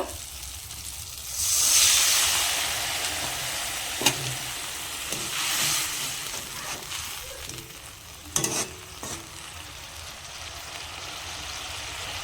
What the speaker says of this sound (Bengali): এবার অল্প জল দিয়ে দিব